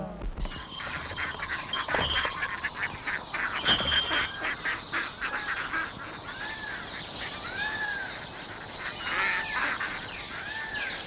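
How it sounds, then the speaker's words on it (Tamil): A flock of ducks or geese calls in a village setting, repeated honking and quacking in quick rhythmic bursts, fairly close and loud, with musical tones and a busy background throughout. "வாத்து கூட்டம்"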